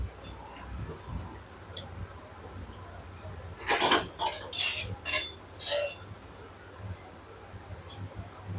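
Potato bhajiya fritters lifted from hot oil with a perforated slotted utensil, a few sharp metallic clinks and scrapes against the pan, short and close over a faint background hiss.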